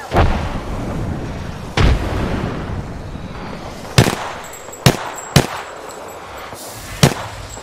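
A frag grenade explodes amid gunfire in an Apex Legends battle, with sharp, loud blasts and cracking shots at irregular intervals, some close and punchy, over a continuous rumbling background.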